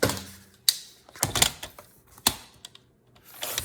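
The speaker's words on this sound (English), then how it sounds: "So I'm just cutting it down to size" Scissors snip through floral wallpaper being trimmed down to size for a junk journal envelope pocket, a few sharp separate crunching cuts with quiet pauses between them, close up, no one talking.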